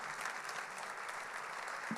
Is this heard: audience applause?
yes